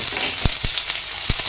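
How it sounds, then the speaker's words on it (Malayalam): Chopped onion with ginger-garlic paste and mustard seeds sizzles steadily in hot oil for a pork fry, a dense bright hiss with a few sharp stirring knocks against the pan. "സവാള ഒരുവിധം വഴണ്ട് തുടങ്ങി"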